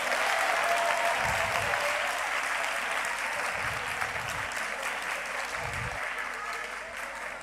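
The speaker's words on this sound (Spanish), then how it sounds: "Un aplaudiment per l'Estany Ricarda." A hall full of secondary school students applauds during a human rights talk, with brisk, steady clapping from a large audience that slowly thins out, and low, muffled voices breaking through a few times.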